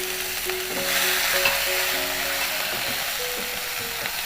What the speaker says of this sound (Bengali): আমি এখন এই তেলটাতেই আমি মিটগুলো দিয়ে দিব একটু ভাজা ভাজা